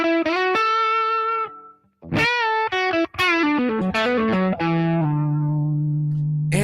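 Electric guitar through a Spark amp with a fuzzy, gritty southern rock tone: single notes and short phrases ring out loud and sustained, with a brief gap before a final held low note.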